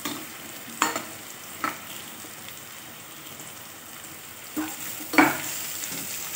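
Maggi manchurian balls frying in a pan of oil, a steady soft sizzle with a few brief stirring scrapes, close and moderately quiet, no talking.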